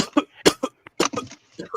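A man coughs hard in a fast cluster of harsh, close bursts, broken by short gaps, with a little throat clearing.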